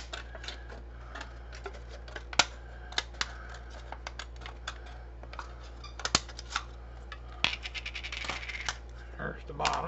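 Close, crisp snips of scissors trimming around an edge, irregular clicks and cuts scattered over a faint steady hum, growing busier toward the end.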